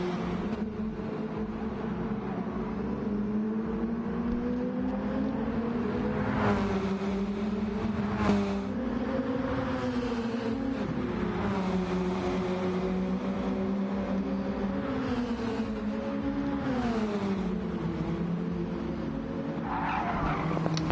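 Race car engines in a racing video game roar loudly and continuously with rising and falling pitch as cars accelerate and shift, along with tire skidding and squeals.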